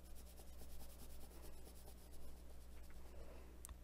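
Faint steady rubbing of an eraser working over pastel pencil marks on paper during a coloring session, a soft scratchy friction heard close up with a small tap at the end.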